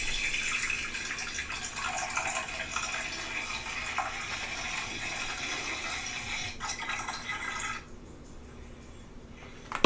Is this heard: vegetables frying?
no